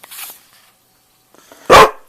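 A dog gives one loud, close bark after a faint whimper and a near-silent pause, indoors.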